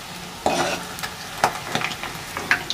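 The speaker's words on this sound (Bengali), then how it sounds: "পনির ভাজা হচ্ছে" Paneer pieces fry in hot oil, a continuous close sizzle broken by a few sharp spatter bursts and light clinks of a spoon, no talking.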